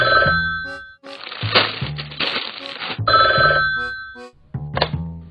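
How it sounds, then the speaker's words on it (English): A phone call rings in the Roblox video game. Electronic telephone bell tones repeat in bursts with brief gaps and a few thunks between them. The ringing is clear and upfront, with no speech. "I'm gonna call my friend Ben."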